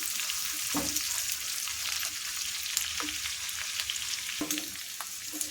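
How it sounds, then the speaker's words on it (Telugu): Ingredients for an okra chutney fry in a pan with a continuous close hiss, broken by three or four separate scraping stirs. "ఒక రెండు నిమిషాలు వేగాలండి ఇది"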